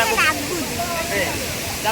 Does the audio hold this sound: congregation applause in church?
no